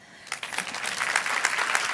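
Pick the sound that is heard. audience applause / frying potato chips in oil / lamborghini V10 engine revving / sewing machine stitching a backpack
audience applause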